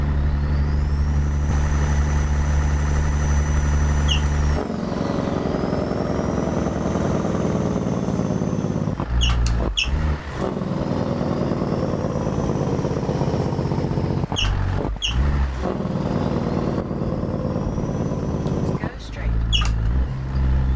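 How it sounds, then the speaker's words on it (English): A stretched Peterbilt 379 truck with a Cat 3406E engine in American Truck Simulator drones steadily and loudly, rising and falling with gear changes and brief throttle breaks, with no talk over it. "Just kind of shutting up for a moment here just to hear the truck sounds."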